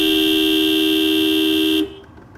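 Car horn honking in one long, loud, steady blast that cuts off near the end, leaving faint background noise.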